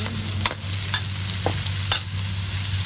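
Onions being stirred in a pan as the base for a sautéed bottle gourd dish, with scraping stirs ticking at irregular intervals over a steady close sizzle of frying.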